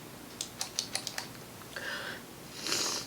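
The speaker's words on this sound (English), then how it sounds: "Do you hear my snotty nose?" A few light clicks, then a person with a snotty, congested nose sniffs twice, close and fairly soft, with no talking.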